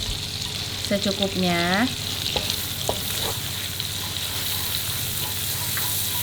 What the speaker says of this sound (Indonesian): tumis bawang putihnya. Tumis sampai wangi ya